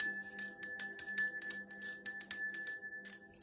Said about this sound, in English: So we're going to begin by ringing the bell and cleansing this space.